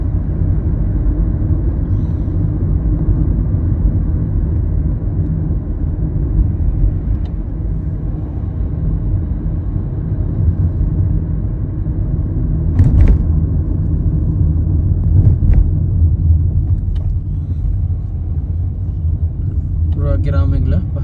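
A car drives along a highway through mountain villages in Saudi Arabia at dusk, its steady low engine and road rumble continuous and close throughout, with someone talking over it.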